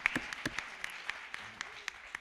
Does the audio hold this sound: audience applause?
yes